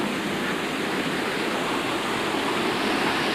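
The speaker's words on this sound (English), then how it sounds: "we can see the water gushing through the Devil's Cauldron" Water rushing through the Devil's Cauldron river gorge on the Cardiganshire coast, a steady, dense roar of torrent with no pauses, loud and continuous throughout.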